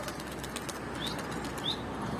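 A bird's wings flap in a quick fluttering rush, close by, with a couple of faint chirps over a steady background hum.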